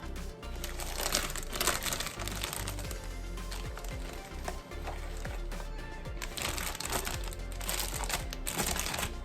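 A plastic bag crinkles as turkey tenderloins are put into it with marinade, steady close-up rustling and crunching with bursts of sharper crackle.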